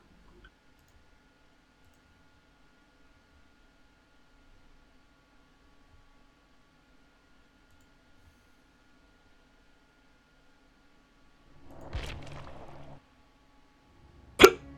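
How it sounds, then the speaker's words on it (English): A single hiccup from a player during a Dead by Daylight stream, one sharp short burst after a brief noisy rustle, alone against near silence. "How do you get rid of hiccups?"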